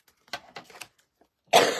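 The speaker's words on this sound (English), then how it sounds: "See, did you hear me? Just coughed." A single short cough bursts out near the end, loud and close, after a few soft indistinct vocal sounds and a stretch of near silence.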